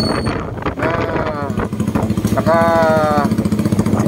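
A motorcycle with a loud open-pipe exhaust blats and revs close by in steady rapid pulses, with a rising whine partway through and voices talking over it.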